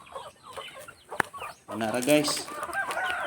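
Chickens clucking nearby, short irregular calls with a brief sharp sound, while a person speaks casually over them.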